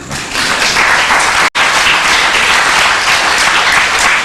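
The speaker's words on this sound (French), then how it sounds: "Clap for God" A church audience claps for God in steady, dense applause that fills the space, broken by one very short silent gap partway through.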